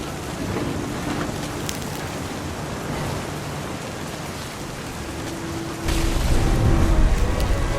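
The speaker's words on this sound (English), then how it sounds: "thunder sounded much too close and full of angry power" Heavy rain pours steadily in the What Remains of Edith Finch game while thunder rumbles close, a deeper, louder roll of thunder swelling in near the end.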